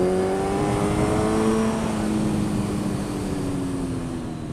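A Kawasaki Z1000 motorcycle engine revs up and holds a high, steady drone, pitch sliding gradually as the throttle eases, loud and continuous with no voices.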